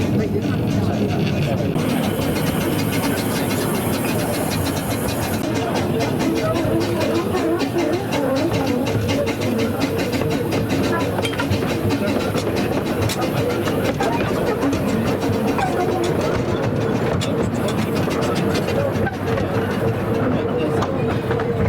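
A steam train runs along the rails with a continuous loud rumble and rapid rhythmic clatter throughout, as people talk over it.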